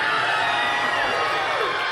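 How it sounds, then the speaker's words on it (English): Crowd cheering and whooping outdoors on election night as the defeated candidate in the 2010 Massachusetts special Senate election steps up to concede; a dense, steady roar of voices holds loud and unbroken throughout. "Somebody told me there was a crowd out here."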